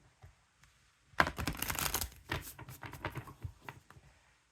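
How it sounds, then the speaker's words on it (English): Stiff tarot cards being shuffled up close, a burst of riffling and flicking that runs for a few seconds, then softer shuffling patter trailing off. "I'm going to shuffle these up, wake them up"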